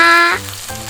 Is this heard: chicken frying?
yes